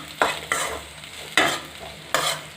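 Onions sautéing in oil in a pan sizzle quietly, broken by four distinct scraping stirs spaced unevenly, each a short sharp swish close by, with no speech.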